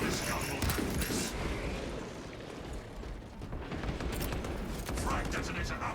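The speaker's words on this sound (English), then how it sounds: "My servo harness gun will do this." A servo harness gun fires in a video game, heard as a dense, sustained barrage of blasts and rumbling impacts, loud and continuous with a brief dip midway, with a voice talking over it.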